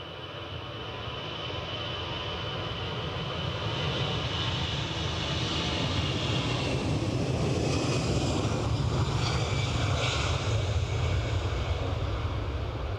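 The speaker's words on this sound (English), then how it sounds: "an A320. Nicely into finals." An Airbus A320 jet on final approach at Edinburgh gives a steady, broad engine roar that swells slightly and holds loud and close throughout, with wind noise in the background.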